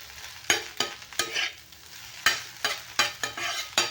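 Soaked kurdaya and salt stirred in a pan, with crisp wet scraping strokes in irregular bursts over a faint sizzle, close up and with no voices.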